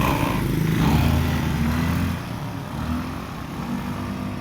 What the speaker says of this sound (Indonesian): kita untuk menyalakan motornya saja